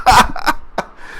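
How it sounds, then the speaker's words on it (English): A few short, harsh coughs in quick succession, close and fairly loud, followed by a brief quieter one. "sorry, I'm coughing"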